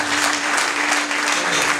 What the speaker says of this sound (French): Est-ce qu'on peut manifester par les acclamations?